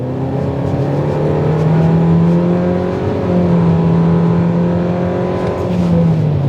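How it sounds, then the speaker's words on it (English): A turbocharged four-cylinder engine in a 2025 MG ZS SUV drones loudly and steadily under acceleration, its pitch rising and falling in smooth sweeps as it gains speed. "it doesn't exactly sound particularly inspiring, with it being a fairly generic turbocharged 4-cylinder engine"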